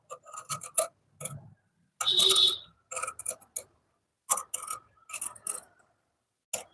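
Scissors cut through blouse fabric for cutwork stitching, giving a string of close, crisp snips and rasping cuts in uneven bursts with short silent pauses between.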